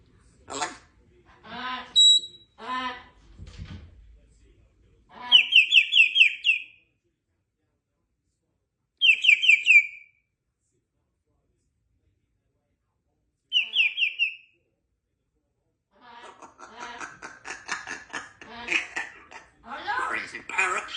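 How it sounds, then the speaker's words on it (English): A pet parrot gives several loud, sharp whistled calls in short bursts with gaps of silence between, close by, alongside stretches of chattering vocal sounds. "Crazy parrot."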